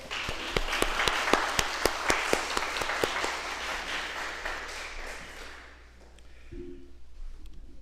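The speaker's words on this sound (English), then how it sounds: "Can we give them a round of applause as well?" An audience at an elementary school celebration applauds warmly, a dense wash of clapping with a few sharp distinct claps, then fading out into quiet room tone.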